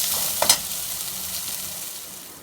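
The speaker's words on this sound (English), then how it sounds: "So now you will add the beans. And you will keep the flame in low so that the beans will cook." Beans sizzle steadily in a pan over a low flame, a continuous frying hiss with a brief stir or clatter near the start, then fading slightly.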